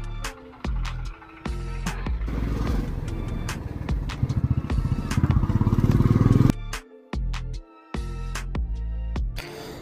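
A motorcycle starting up and riding off on a village road, with a choppy idle that revs and builds into a loud, steady run. The engine cuts out briefly and then catches again, close by, with no talking.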